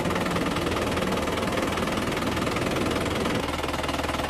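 An Isuzu Crosswind engine, just fitted with a new water pump, runs at a steady idle, a continuous close mechanical hum with a faint rhythmic knock that eases slightly near the end.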